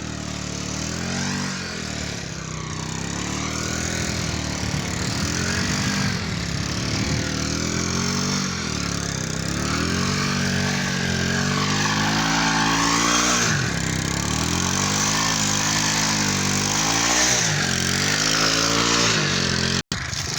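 A motorcycle engine drones loudly and continuously, revving and straining up and down in pitch as it climbs a sand dune in the Thal desert, close and unbroken throughout.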